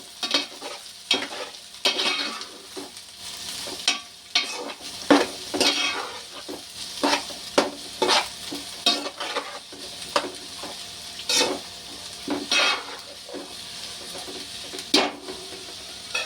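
Cabbage and onions frying in a pan for a cabbage and egg masala curry, with a spoon scraping and stirring in repeated strokes over a steady close sizzle, and no one speaking.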